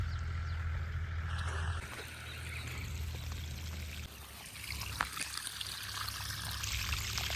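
Water pumped by a motor gushes and trickles along an irrigation channel into a cotton field, a steady outdoor pouring and babbling flow with a low motor hum early on.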